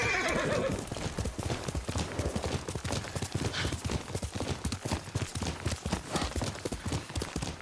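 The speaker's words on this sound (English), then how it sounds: "Yuriko's horse. She can't be far." Horse hooves clip-clop in a steady walking rhythm in the samurai video game Ghost of Tsushima, close and continuous, with a brief neigh near the start and no speech.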